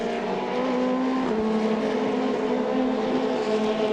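Formula Renault 2.0 race cars scream past at Paul Ricard, a loud, sustained high-revving engine whine with a slight pitch shift as the cars go by and no voices over it.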